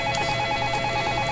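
Telephone ringing in the interactive drama game Facade, a steady electronic ring with evenly repeating tone bursts filling the short moment, with no talking.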